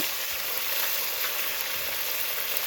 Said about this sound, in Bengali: আদা রসুনটা একটু ভালো করে ভেজে